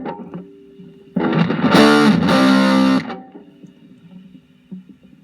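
Electric guitar through an Okko Black Beast fuzz pedal with the treble raised, a loud, thick fuzzed chord blast lasting about two seconds before cutting back to a low hum and faint string noise.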